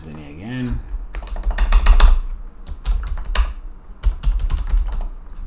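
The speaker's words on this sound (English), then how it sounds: "I'm typing on the other screen, so that's why you don't see it." Someone types on a computer keyboard in rapid, uneven bursts of close clicks, with a short stretch of talk at the start.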